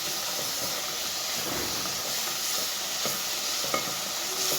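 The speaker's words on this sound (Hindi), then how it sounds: "ये देख सकते हैं हमारा सालन कितना अच्छी तरह भुन रहा है।" A potato and eggplant curry fries in a pan with a steady, dense sizzle and hiss, broken by faint stirring scrapes and no voices.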